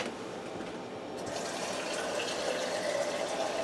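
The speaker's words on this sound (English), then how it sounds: "I'm going to add another half a jar of that water" Water is poured from a pasta jar into a pressure cooker for ham and cheese spaghetti, a steady close gushing pour that swells and brightens after the first second and continues to the end, with no talk.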